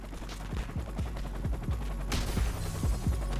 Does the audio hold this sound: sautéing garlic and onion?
no